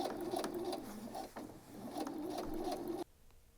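Sewing machine back stitching the seam of a circle skirt, a steady close whirring hum with a brief pause near the middle, then stopping abruptly before the end.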